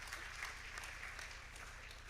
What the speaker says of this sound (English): Round of applause once again, please.